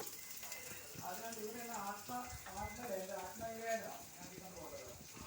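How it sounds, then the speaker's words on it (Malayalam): Chopped vegetables frying in oil for homemade noodles, a soft steady sizzle with stirring scrapes, faint and mostly alone. "പിന്നെ എണ്ണ ഒഴിച്ച് നമ്മൾ അരിഞ്ഞ് വെച്ച ആ വെജിറ്റബിൾസ് ഇടുക."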